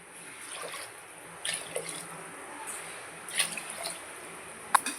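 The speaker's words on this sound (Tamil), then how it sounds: "அவ்வளோதான், 4 கப் தண்ணி சேர்த்தாச்சு." Four cups of water are poured into rice in a cooking pot for egg pulao: a faint, steady trickle and pour with a few small splashes near the end, no talking.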